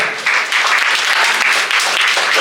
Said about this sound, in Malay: Satu tepuk tangan untuk Ajia.